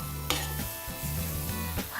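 Pasta is tossed in a pan with butter and garlic powder, a soft steady sizzle under light stirring and scraping, with a few sharper clinks of utensil against the pan, near and without talk.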